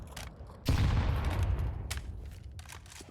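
Gunfire in a Counter-Strike match on the Dust2 map, an esports game: a dense burst of shots kicks in sharply and rolls on as a sustained, loud rattle, then thins out into scattered fainter pops.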